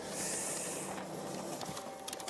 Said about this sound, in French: Foutue imprimante.